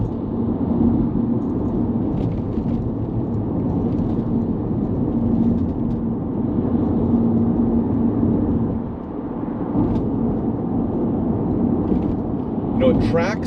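A 2003 Audi A4 Avant 3.0 drives along with a steady low engine and road drone heard from inside the cabin, continuous and fairly loud, with a slight dip midway.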